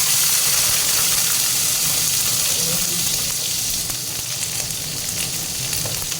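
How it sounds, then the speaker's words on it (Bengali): Eggplant fries in hot oil in a pan, producing a loud, dense, continuous sizzle and crackle that holds steady throughout with faint stirring underneath. "তো বেগুনটা একটু ভেজে নিচ্ছি।"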